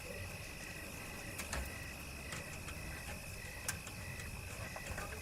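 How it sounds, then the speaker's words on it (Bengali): Crickets trilling steadily at night on a quiet, empty rural road in winter, a continuous high buzzing drone with faint clicks throughout and no voices. "কানে ভেসে আসছে শুধু ঝিঝি পোকার ডাক।"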